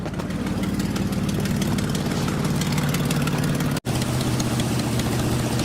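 A 2010 Jeep Liberty idles with the air-conditioning compressor engaged, a steady low engine drone that stays loud and even, broken by one abrupt momentary drop before the rumble resumes.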